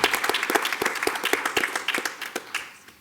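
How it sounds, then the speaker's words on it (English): A modest school board meeting audience claps in a sparse, uneven round of applause, individual claps clearly separable, tapering off and dying away over a few seconds. "let's give a round of applause for Mr."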